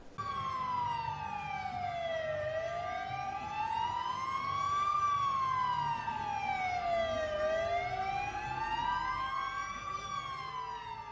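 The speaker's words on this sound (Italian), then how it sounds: "Le sirene dei mezzi storici dell'ANPAS hanno aperto la parata delle ambulanze" Historic ANPAS ambulances sound their sirens to open an ambulance parade in Verbania, a loud continuous wailing siren rising and falling in slow repeated sweeps, close and steady throughout, with faint traffic rumble beneath and no talking.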